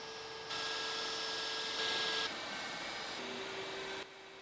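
An X-Carve CNC router carves Corian with a dust-shoe vacuum attached, producing a steady whirring hum that steps up and down in pitch and loudness as the cut changes, then drops off near the end.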